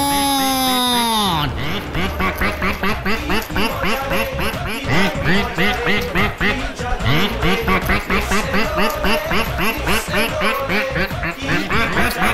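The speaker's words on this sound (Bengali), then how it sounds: "হাঁস বাহিনী, আক্রমণ!" Cartoon ducks quacking as they attack, a loud, rapid and relentless stream of overlapping quacks that follows a brief rising tone.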